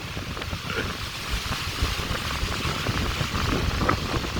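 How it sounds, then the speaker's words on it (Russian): Waves and surf on the Caspian Sea beach, a steady broadband wash with wind buffeting the microphone throughout, continuous and fairly loud with no talk. "Волны все-таки сильные, кстати."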